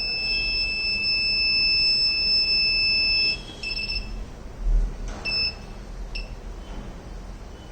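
A buzzer alarm from an anti-sleep driver drowsiness detection system whines steadily as a thin, high electronic tone, then cuts into a few short stuttering beeps over a constant low hum of background noise.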